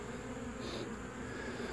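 Honey bees hum and buzz around a hive entrance, a soft steady drone close by with no voices.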